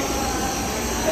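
A Shinkansen bullet train arrives at Kyoto Station, a dense, loud, steady roar and rush of air that fills the platform for a brief stretch.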